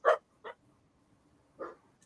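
A young dog barks three times, two quick close barks and then a third after a pause, each short and sharp against a quiet room.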